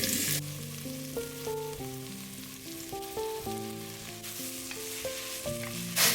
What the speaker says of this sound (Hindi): पहले गोभी ऐड कर रही हूँ, कैबेज